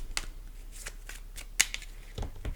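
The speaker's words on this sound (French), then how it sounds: "il y a beaucoup de cartes qui sont tombées" Tarot or oracle cards being shuffled for a reading, with several cards slipping and falling: soft riffling and slapping of cards at close range over a low background hum, a sharp flick partway through, no speech.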